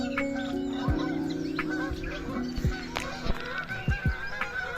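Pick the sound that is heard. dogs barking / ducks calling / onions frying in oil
ducks calling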